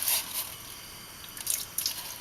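A small lobster is lowered into a bowl of water, giving faint close splashing and dripping sounds with a few brief sharper drips and trickles near the end, and no voices.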